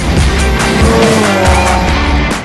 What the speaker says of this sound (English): The noise of an engine just flying down a straight gives me goosebumps.